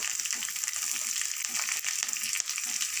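Green chilies and coriander sizzle steadily in hot oil while mango pulihora is cooked, a bright continuous frying hiss heard close up with soft stirring clicks.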